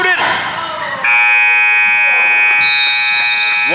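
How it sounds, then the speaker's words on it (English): Loud, sustained horn buzzer marking the end of the first half in a girls' high school basketball game, blaring steadily over crowd noise after a brief burst of commentary and cheering. "Buzzer beater attempt there by Mimi Rector."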